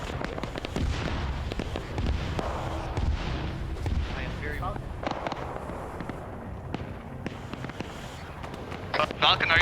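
Rapid sustained automatic gunfire from a magazine dump in the military shooter Arma 3, set in a Vietnam War scenario, with dense cracking shots and booming explosions overlapping continuously, while a voice talks over the battle.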